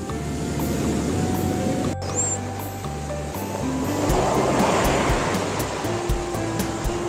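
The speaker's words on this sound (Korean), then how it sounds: "보시면 아시겠지만 파도 어마어마하죠" Large ocean waves crash and roll steadily onto a fishing beach where the surf is strong, a loud continuous wash of breaking water that swells louder midway through.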